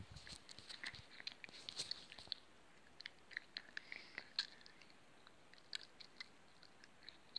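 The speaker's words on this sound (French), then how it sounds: "On dirait que j'ai un chewing-gum dans la bouche, mais en fait c'est du papier." Someone chewing a wad of paper in their mouth, producing soft, moist, irregular crunching and squelching bites close to the microphone, with no speech.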